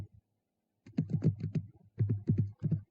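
Computer keyboard keys typed in Wolfram Mathematica to enter a range of 5 and close the brackets: two quick bursts of close, crisp clicking separated by a short pause, with no voice.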